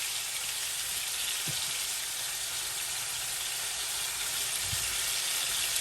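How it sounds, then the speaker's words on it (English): Steady, hissing sizzle of marinated steak frying in a hot pan, continuous and fairly quiet, with a couple of soft clinks from handling. "Can you hear the sizzling sounds?"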